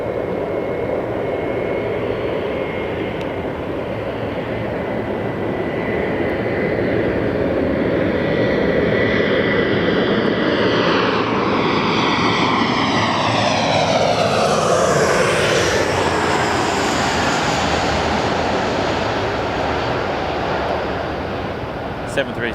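A United Airlines Boeing 737-800 jet passes by at Los Angeles International Airport, its loud, steady engine roar building and sweeping in pitch as it goes by, with a voice talking over it.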